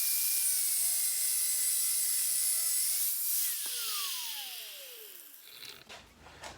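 A cutoff wheel screams at high pitch while cutting through a metal shaft for a worktable sawmill, steady and loud, then spins down with a falling whine and scraping near the end.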